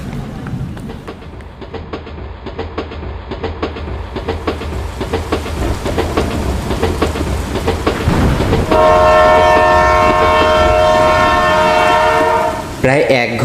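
A train rattles past with rhythmic clickety-clack of wheels over rail joints, growing louder and closer, then a long loud multi-tone horn blares for several seconds before cutting off.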